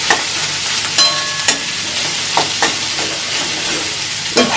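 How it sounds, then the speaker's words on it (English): Green vegetables stir-fried over high heat, with a loud continuous sizzle punctuated by regular clanks and scrapes of tossing roughly every second. "Keep tossing the veggies, and keep in mind we are cooking in high heat so that the green veggies cook"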